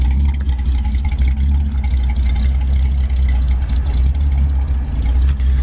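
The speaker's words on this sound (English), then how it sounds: "Dual exhaust sounds great." A 1955 Ford Sunliner convertible engine idles loudly up close, its deep, steady rumble burbling through dual exhaust without a break.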